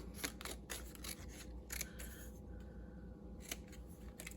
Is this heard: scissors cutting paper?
yes